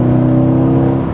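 A Mercedes-Benz C63 AMG Black Series with a naturally aspirated engine revs hard and climbs quickly, a loud, steady, close-up mechanical roar heard alone without any talking.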